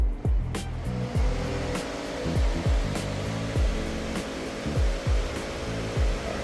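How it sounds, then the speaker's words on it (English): Solar-powered ventilation fans running in a hoop house give a steady, close whirring hum, with soft low thumps recurring every second or so and no voices. "And then we have these switches that will power the fans."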